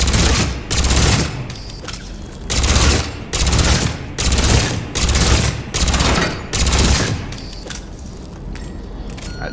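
Heavy automatic gunfire with incendiary ammo from Mass Effect 3, loud sustained bursts about a second long repeating rhythmically with short gaps, no talk.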